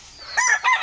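A tethered rooster, a gift to its owner, crows in one short, loud, close burst on a backyard farm.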